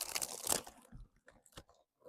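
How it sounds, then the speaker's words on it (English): A few quiet, crisp crunches of someone chewing sour snack sweets, in short bursts spaced across the moment, close by with no talk. "Oh, you can hear the crunch,"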